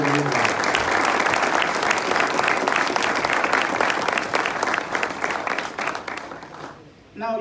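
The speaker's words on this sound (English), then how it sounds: "A really big hand of applause I would like to give." A large audience gives a big, sustained round of applause at a talk on world-class incubators. The clapping is loud and dense for most of the time, then tapers off before ending abruptly.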